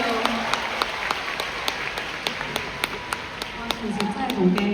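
A concert audience at the Hong Kong Coliseum claps in steady, evenly spaced beats throughout, with a voice talking over the applause.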